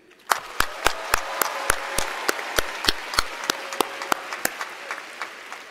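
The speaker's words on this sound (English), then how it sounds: "Please join me again in a round of applause for Miss V." A graduation ceremony audience at Park Crossing High School in 2018 applauds a retiring staff member with sharp, separate claps in a loose, slowing rhythm that gradually grows fainter.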